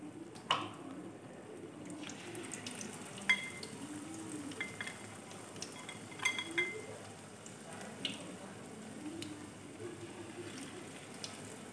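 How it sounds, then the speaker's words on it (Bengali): Battered okra pieces frying in hot oil, a soft continuous sizzle with faint crackles and occasional small pops, steady and fairly quiet throughout with no talking. "এবারে একটা একটা করে ব্যাটারের মধ্যে চুবিয়ে চুবিয়ে আমি তেলের মধ্যে ছেড়ে দেবো"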